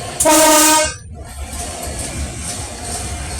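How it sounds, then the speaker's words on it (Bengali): A loud horn blast sounds briefly, then a long train's steady low rumble carries on as it rolls into Joydebpur railway station. "দেখেন কত বড় একটি ট্রেন বর্তমানে এখন জয়দেবপুর স্টেশনে ঢুকে গেছে"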